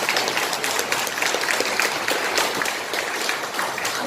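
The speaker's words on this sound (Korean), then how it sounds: "박수 한번 보내주시기 바랍니다" Applause from the audience at an economic revitalization debate forum in Gumi, a bright, dense, steady clapping from a sizable crowd that holds strong for the whole stretch.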